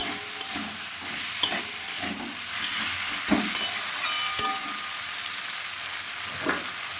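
Green peas fry in a pan of spiced ginger, garlic and onion paste, sizzling steadily under a few sharp scrapes and knocks of a stirring spoon. No voices are heard.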